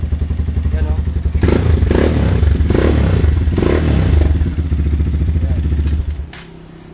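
A Rusi KRY 200 motorcycle engine catches after a push start and runs with a loud, steady rumbling idle up close, a brief word spoken over it before it cuts off near the end.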